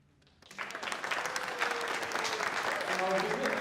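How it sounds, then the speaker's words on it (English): An audience breaks into applause after a quiet moment, the clapping swelling quickly and continuing steadily. "I will do this for your applause."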